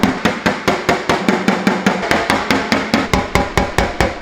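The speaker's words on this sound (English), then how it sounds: "I've got a blending hammer with an M24 tip by Dentcraft. Now I'm going to use this to come in and tap down these crowns" Dentcraft blending hammer with an M24 tip tapping down crowns on a car panel dent during paintless dent repair, a steady rapid series of about twenty close metallic taps at an even rhythm, no voices.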